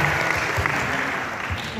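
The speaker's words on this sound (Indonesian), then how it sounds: "Boleh tepuk tangan dong buat fakultas peternakan." Audience applause for the faculty of animal husbandry during a campus excursion at IPB University, a steady wash of clapping lasting the whole short stretch with some voices mixed in underneath.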